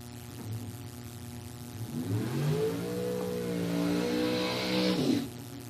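A drag race car engine revs up and roars at rising pitch during a burnout at a bracket drag racing event, heard from a distance and growing louder, then cuts off abruptly.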